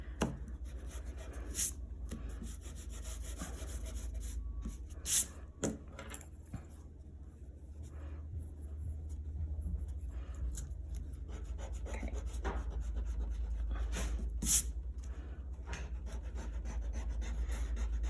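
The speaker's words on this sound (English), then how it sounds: "So don't erase your trees, just the lines that we drew." Pencil lines are erased from paper during a perspective drawing, giving steady soft rubbing and scratchy back-and-forth strokes with a few brief louder scrapes throughout.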